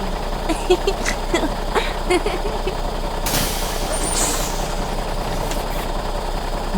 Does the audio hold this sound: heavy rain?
no